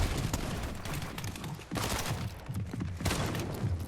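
Shotgun blasts ring out in a Fortnite Chapter 5 FNCS Grand Finals match, loud broadband bursts breaking through a dense, continuous wash of in-game gunfire and action noise.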